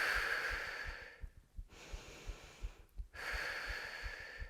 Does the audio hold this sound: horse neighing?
no